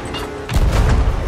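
Ship cannon fire in Sea of Thieves during a ghost ship battle: a single deep, loud boom breaks in midway and rumbles out after a quieter start.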